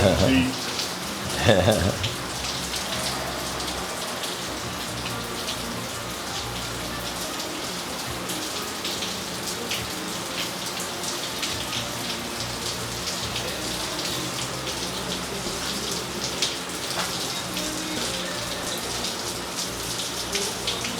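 Rain falls steadily outside on a Florida day, a dense, even patter on surfaces that continues the whole time, with faint voices underneath.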